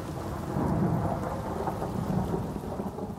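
A thunderstorm with steady heavy rain and a low rolling rumble of thunder fills the scene evenly throughout, loud and broadband, with no voices.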